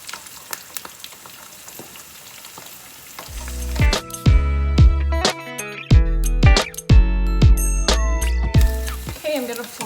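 Thin chicken slices sizzling and frying in a hot pan, a loud steady crackle broken by sharp clatters of utensils and pan knocks as pieces get flipped, with a voice speaking over it.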